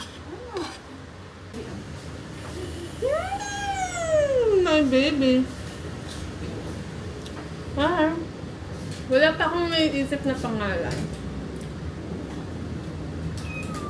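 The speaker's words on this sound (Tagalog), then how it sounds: "Guys, bibigyan niya ako ng pusa. Ito na siya." Small kitten meowing several times in rising and falling cries, close by, with people talking around it in a home setting.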